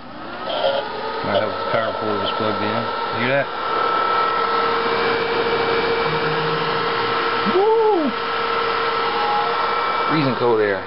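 A modded 12V cooling fan on an Xbox 360 runs with a steady whooshing airflow and a constant tonal hum, close up, while a person talks over it at the start and near the end.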